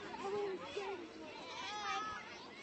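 Goats and sheep bleat at an outdoor pet day parade, with owners in costume; short wavering bleats rise over a busy crowd murmur and talk.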